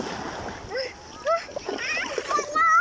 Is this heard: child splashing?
yes